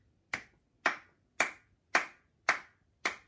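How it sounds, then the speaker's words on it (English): Single person clapping hands during an online children's singing session, six crisp, evenly spaced claps about half a second apart, close and clear against near silence. "And then just clap your hands."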